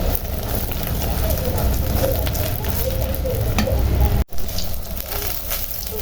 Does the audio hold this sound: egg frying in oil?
yes